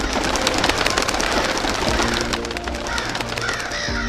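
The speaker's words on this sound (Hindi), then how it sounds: "अचानक कौवे पेड़ों से बाहर निकलने लग जाते हैं।" Crows caw and flap up out of trees in the video game Godzilla: Rage Across Time, many harsh calls overlapping across a dense, loud layer of wingbeats and ambience.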